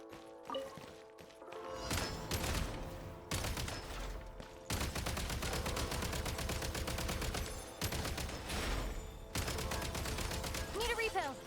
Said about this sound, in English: There's a shooting range.